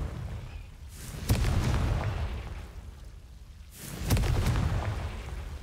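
Two loud fiery spell blasts from the Confringo curse in the Hogwarts Legacy video game, each a sharp crack swelling into a sustained rumbling burst, the second about three seconds after the first, with no talk over them.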